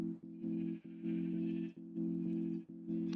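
A sheep in the video game Minecraft bleats in several repeated, synthetic-sounding calls with short gaps between them, loud and close and with no talking.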